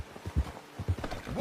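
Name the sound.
horse hooves and whinny in video game Red Dead Redemption 2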